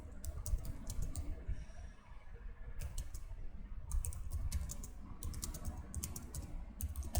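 Keys clatter on a computer keyboard as a header is typed into a document, bursts of quick clicks separated by short pauses, close and moderately loud over a low background hum.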